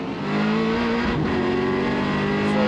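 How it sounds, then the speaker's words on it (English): A Holden Commodore touring car's engine roars from an on-board position at The Bend circuit, a loud, steady mid-pitched drone that builds slightly, with no voices. "on-board shot there out of Garwood in the Commodore there. Listen to that thing roar."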